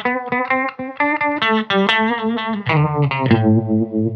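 Electric guitar played through a Thorpy FX ER-2 Uni-Vibe pedal, a quick run of picked notes and chords with a warm, swirling, throbbing modulation, loud and close with no talk.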